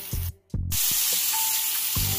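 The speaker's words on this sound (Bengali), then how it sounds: "এটা উল্টে পাল্টে সামান্য একটুখানি ব্রাউন ব্রাউন কালার হলে" Pointed gourd stuffed for dorma fries in oil while being turned, giving a loud continuous sizzle broken by a brief hush and a few clunks of the utensil against the pan, with no speech.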